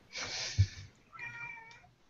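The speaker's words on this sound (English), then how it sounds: "Oh, there's a cat back there." A cat meows twice in the background of an indoor setting, the first call a drawn-out cry and the second a shorter, higher mew, both fairly faint with no talk over them.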